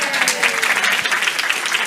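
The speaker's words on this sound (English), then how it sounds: "Please clap hands for me." Audience clapping at a Methodist and Uniting Churches women's gathering, a steady, dense round of applause lasting the whole short moment, with faint voices mixed in.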